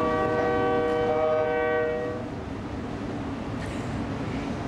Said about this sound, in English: The train, though.